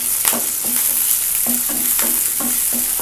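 Green chillies sizzle and fry lightly in a pan for a Telugu tomato coriander chutney, a steady close crackle with repeated soft stirring scrapes, no voices.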